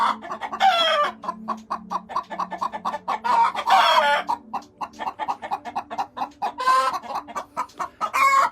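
Chickens on a farm clucking steadily in quick, repeated bursts, with a rooster crowing now and then, close and fairly loud throughout with no one speaking over them.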